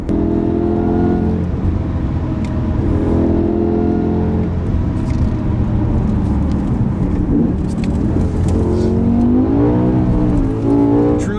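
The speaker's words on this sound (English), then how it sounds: "Very special to be driving such an iconic car." A BMW M5 engine hums steadily as it drives, rising in pitch as it revs and accelerates near the end, with a smooth, powerful tone.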